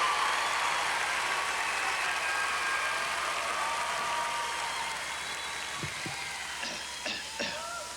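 A live country show audience in Kansas City applauds a performer's entrance with a steady, dense roar of clapping that fades slightly toward the end, with a few louder knocks near the close.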